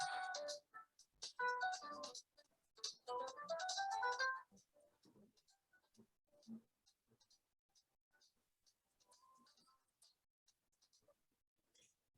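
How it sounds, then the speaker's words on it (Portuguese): A telephone rings indoors with a melodic, repeating electronic ringtone for a few seconds, then faint scattered clicks and small noises follow in a quiet room. "É o telefone."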